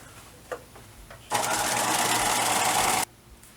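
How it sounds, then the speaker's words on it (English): A sewing machine whirs steadily for about two seconds of continuous stitching on a bag, close by, after a few soft handling taps. "Let's take it to the sewing machine."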